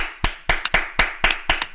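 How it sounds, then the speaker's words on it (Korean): Several people clap together in a short burst of applause, sharp hand claps in an uneven rhythm, nearby and fairly quiet. "박수 쳐주세요 여러분"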